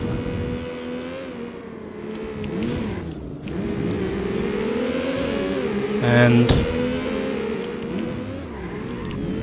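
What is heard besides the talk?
racing car engine in video game NFS Porsche 2000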